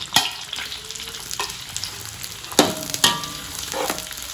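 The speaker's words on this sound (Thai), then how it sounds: "คั่วตลอดนะ อ๋อเราต้องคนตลอด" Karen chili paste ingredients dry-roast in a pan while being stirred, a soft crackling sizzle broken by several sharp scraping clacks of the utensil against the pan, close and without talk.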